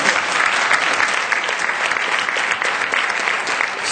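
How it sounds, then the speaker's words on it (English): An audience at a media talk applauds Jimmy Wales, Wikipedia's founder, with steady, full clapping from the crowd that keeps an even loudness throughout. "a big round of applause and thank you"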